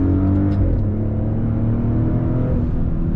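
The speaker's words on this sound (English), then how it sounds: "On throttle, here we go." A 2022 Maserati Ghibli Modena sport sedan accelerates under throttle, its engine a loud, steady, deep drone with rising harmonics and an interior rumble throughout.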